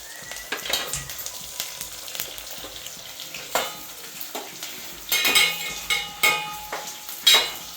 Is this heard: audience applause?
no